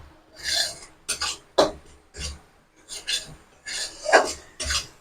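Ground spices being stir-fried in a pan for chicken chow mein, with a spatula scraping and rasping in short, separate strokes, close and moderately loud, separated by brief pauses.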